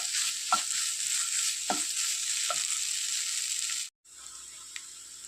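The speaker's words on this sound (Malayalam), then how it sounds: "നല്ല ഡ്രൈ ആകോളം നമുക്കിത് ചിക്കി എടുക്കണം." Egg stir-frying dry in a pan for Kerala egg chammanthi, a steady close sizzle with a few scraping stirs of the spatula and a brief break before the hiss resumes.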